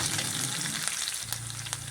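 Food sizzles steadily in hot oil, a continuous crackling hiss with faint stirring clinks, no voices.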